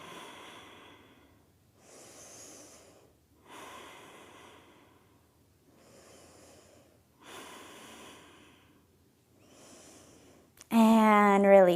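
Slow, steady breaths during a yoga pose, about half a dozen soft, close inhales and exhales spaced evenly in a quiet room, ending with a sudden louder burst.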